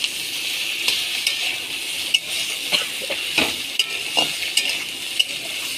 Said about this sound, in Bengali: এবারে আদা বাটা জিরে বাটা লঙ্কা বাটা যেটা মানে মিশানো ছিল বাটা ছিল সেটা দেওয়া হবে